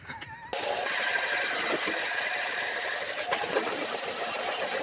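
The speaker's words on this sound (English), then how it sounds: "Sanding. Yay." A power sander sanding wood starts abruptly and runs with a steady, loud, hissing rasp, close by and continuous.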